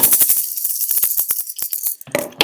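Maracas shake in a quick, crisp rhythm of rattling bursts, loud and close, with no voices.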